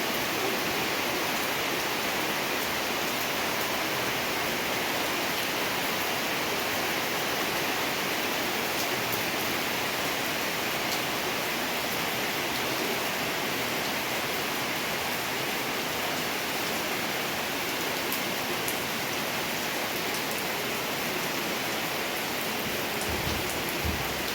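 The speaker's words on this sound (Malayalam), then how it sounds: "അപ്പോഴേക്ക് നല്ല മഴ പെയ്തിട്ടുണ്ടായിരുന്നു" Heavy rain pours down in a steady, dense hiss, unbroken throughout with no other sounds standing out.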